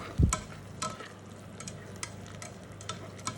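Vegetables with garlic stewing in a pan, stirred a few times, with one sharp scrape or knock near the start and then a steady low sizzle and soft clicks of a utensil against the pan.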